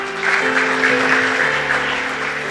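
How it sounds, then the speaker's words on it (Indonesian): A church congregation claps together in steady, dense applause, with sustained music tones playing underneath throughout. "Kasih tepuk tangan buat Tuhan."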